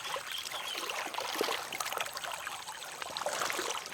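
A fast-flowing stream in the cool early morning gives a continuous bright rushing and gurgling of water, steady and close, with no voices.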